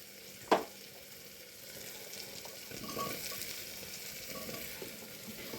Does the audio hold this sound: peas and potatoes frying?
yes